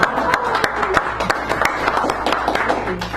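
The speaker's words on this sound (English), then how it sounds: "That's another round of applause right there." A small crowd at a poetry hour in Sacred Grounds Cafe, San Francisco, claps for a spoken word poet. Scattered, distinct hand claps sound close by, and murmuring voices run beneath them.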